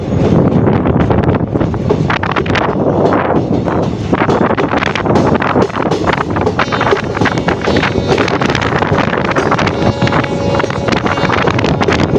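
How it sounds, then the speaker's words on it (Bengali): Strong wind gusts buffet the microphone in a continuous, rough roar as a train crosses the Barak river, with faint clattering from the train beneath the gusts. "অনেক সুন্দর বাতাসও চলছে"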